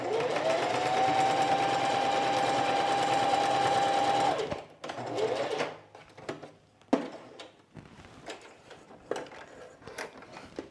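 A sewing machine quilting a jacket without a walking foot runs in one loud, steady burst for about four seconds, then stops; quieter handling clicks and rustles of fabric follow, with no one speaking.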